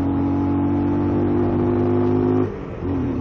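A car engine on the road toward Babusar Pass hums steadily and loud for over two seconds, then briefly drops off as the gear changes, and picks back up as the car accelerates again.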